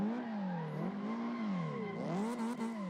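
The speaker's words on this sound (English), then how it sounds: "Let's see the two drifts that I did right here." Car drifting with the engine revving up and down in long swooping rises and falls, steady and fairly faint, no talking.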